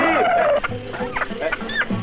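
Chickens at a poultry seller's stall give a rapid run of overlapping clucks and squawks, fairly close and busy, with one higher call near the end.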